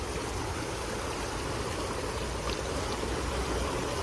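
Clean stream water flows steadily beside a temple, a dense, even rush of running water close by, with no voices.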